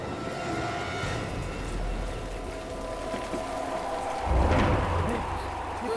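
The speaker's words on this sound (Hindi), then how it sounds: "अचानक की हवाएं कैसे चल रही हैं?" Storm winds blow steadily around a graveyard, a broad continuous roar with a low rumbling swell surging louder toward the end, mixed with a rain-like hiss.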